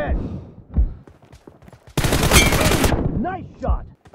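Sharp bursts of gunfire from a video game shooter, a dense rapid volley near the middle framed by brief isolated shots, with shouted voices around them.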